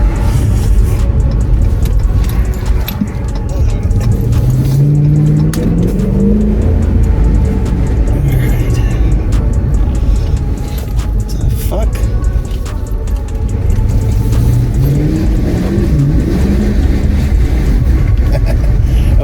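A 2022 Honda Grom motorcycle engine drones loudly and steadily while riding through an echoing passage, with the pitch rising and falling through the gears, under a voice talking.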